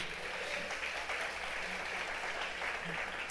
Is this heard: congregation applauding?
yes